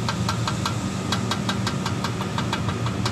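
Metallic rattle from under a Mazda Miata, suspected to be a loose heat shield around the catalytic converter, ticks in a steady rapid rhythm over a low idling engine, close and loud with no talking.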